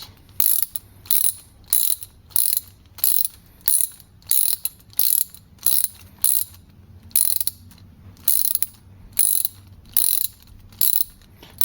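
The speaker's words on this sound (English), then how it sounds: "You grab the nylock with needle nose and keep doing this." Rapid ratchet-like clicks come in a steady series of about a dozen short bursts as an M4 nylock nut is turned with needle-nose pliers, close and crisp with no talking.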